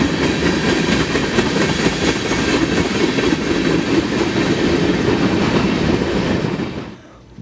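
Santa Fe B40-8W diesel locomotive hauling a freight train rolls past close by, a loud sustained rumble with rail clatter and roar that holds steady, then cuts off abruptly near the end.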